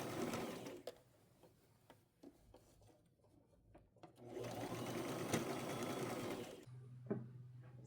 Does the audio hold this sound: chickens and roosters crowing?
no